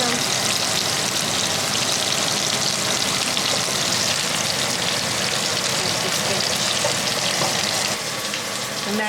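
Fish frying in Kerrygold butter in a small skillet, a dense, continuous loud sizzle and crackle that holds steady throughout with no pauses.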